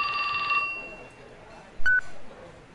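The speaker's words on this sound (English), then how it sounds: "His phone rang." A phone rings in the visual-novel game 428: Shibuya Scramble, with a short electronic ring tone at the start, then a brief chirp a little over a second later.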